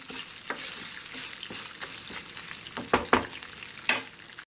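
Green chillies fry in a pan with a steady close sizzle, broken by a few sharp scrapes and knocks of a spoon stirring them near the end.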